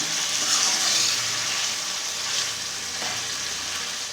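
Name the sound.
stirring chicken karahi frying in the pan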